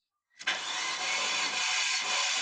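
A Mercedes sport coupe engine opened to full throttle during a compression test bursts in suddenly after a brief silence, then holds a loud, steady, close roar until the end.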